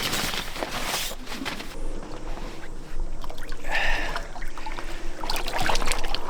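A person jumps into cold open water, giving a clear splash and churning water at close range, with continuous sloshing and trickling that grows louder toward the end.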